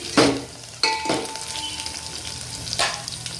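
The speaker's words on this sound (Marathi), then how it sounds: "जोपर्यंत लसूण छान वास येत नाही तोपर्यंत मस्त फ्राय होऊन द्यायचं आहे तेलामध्ये" Garlic frying in oil, a continuous close sizzle broken by three louder bursts of stirring and clinking against the pan, with no one speaking.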